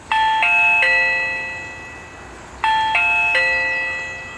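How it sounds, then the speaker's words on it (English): A Reolink battery doorbell chime rings twice, each time a bright multi-tone melody that rings out and slowly decays, loud and close with no talking. "here's what it sounds like when you ring the button."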